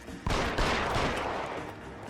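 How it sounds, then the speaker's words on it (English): Gunfire in the video game L.A. Noire comes as a loud, close burst of shots that blurs into a dense crackling roar and then slowly tails off, with no voices over it. "He's shooting at me."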